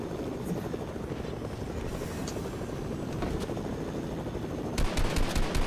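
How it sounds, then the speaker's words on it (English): Helicopter rotor chopping steadily in a Fortnite match, loud and continuous, with bursts of gunfire joining near the end. "Oh, there's another helicopter."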